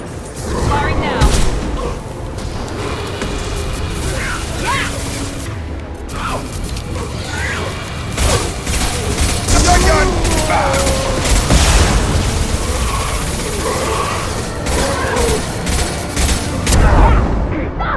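Gunfire in the sci-fi shooter Mass Effect 2 during a firefight: loud, repeated booming shots and bursts scattered throughout, with mechanical clatter and voices talking over the combat.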